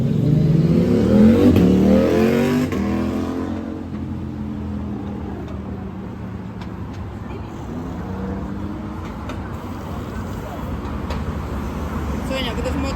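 A car engine revs and accelerates up close during the opening seconds, then settles into a steadier drone of driving as people talk throughout.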